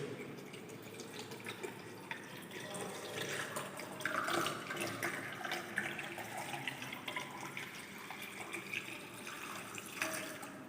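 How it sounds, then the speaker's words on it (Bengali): Water is poured into a beaker for a tablet disintegration test, giving a quiet, steady splashing trickle that runs for about ten seconds. "তাই আমরা এখানে জল দিয়ে দেবো।"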